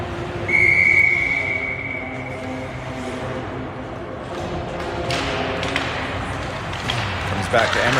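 A referee's whistle blows one sustained shrill blast at a youth U13 girls' ice hockey game in an arena, sounding clearly over a commentator's continuous play-by-play and rink crowd noise.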